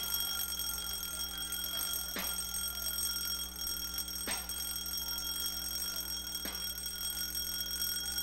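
An alarm clock rings as a steady, bright, high-pitched tone with sharp clicks at regular two-second intervals, continuous and close with no talking.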